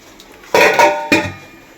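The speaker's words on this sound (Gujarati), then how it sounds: "હવે આપણે ઢોકળિયાને બંધ કરી દઈશું" A metal lid is set down on a dhokla steamer pot on a stove, giving two close clattering clanks about half a second apart, with a faint ringing tail and no talk.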